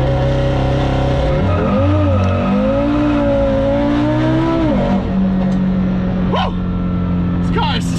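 A car on its stock setting launches hard and accelerates, its engine note climbing through rising sweeps with a brief tire squeal, loud and close, then settling into a steady drone as it cruises; someone speaks over it.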